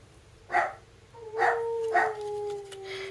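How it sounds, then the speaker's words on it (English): Small dogs bark and yap in short bursts indoors, with a sustained whine or howl running between the later barks; fairly close and moderately loud. "Bella is very talkative and Boots is very yappy"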